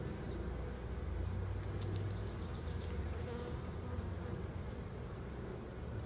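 Honeybees buzz steadily around an open hive during a frame inspection, a dense, close drone with individual bees passing near, faint vehicle noise in the background.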